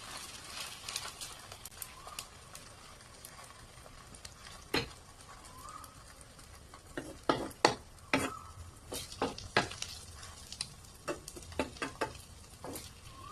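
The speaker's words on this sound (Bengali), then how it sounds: "এখন আবারও চামচের সাহায্যে সব দিকে ফেলিয়ে দেব।" A spoon scrapes and taps around a pan on the stove as a quick breakfast mixture is spread out, with irregular clinks and soft scraping at close range.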